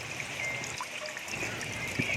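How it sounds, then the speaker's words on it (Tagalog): Spring water trickles out from between rocks on a mountain, a soft, close, steady dribble and faint gurgle with no talking. "dito kami kumukuha ng tubig dito kami nagsasahod para mainom dito sa bundok yung bukal na nasa gitna ng bato"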